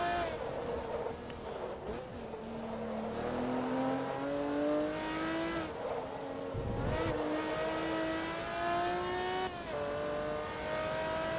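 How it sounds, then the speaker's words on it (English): Supercar engine in Forza Motorsport 2 at Mugello, a loud continuous racing-engine drone with rising pitch sweeps through gear changes, brief dips between shifts, no talk over it. "this is a really beautiful engine"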